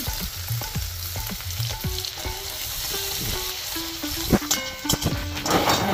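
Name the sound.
chopped onions, garlic and ginger frying in oil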